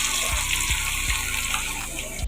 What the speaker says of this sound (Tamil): எண்ணெயில் போட்டு பொரிச்சிக்கலாம்.